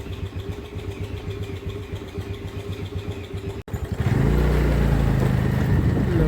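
A scooter engine runs at a low, steady putter while being ridden, then after a short break rises to a louder, fuller drone as it picks up speed.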